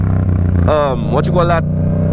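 A motorcycle ridden with its exhaust removed hums low and steady underneath, while a voice talks briefly over the engine.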